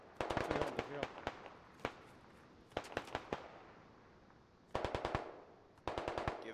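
Gunfire in the video game Squad, repeated short bursts of rapid automatic shots separated by pauses, crisp and moderately distant, with a few single shots in between.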